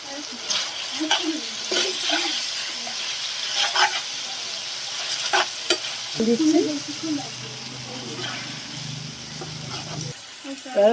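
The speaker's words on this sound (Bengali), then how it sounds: "এবারে ফ্রাই করা পণগুলো আমি এই পেঁয়াজের সঙ্গে ঢেলে দেবো এইসব নাড়াচাড়া করে নেব" Fried baby corn is tipped onto onions in a hot pan and stirred, making a continuous loud sizzle with repeated scraping strokes, while a voice talks in the background.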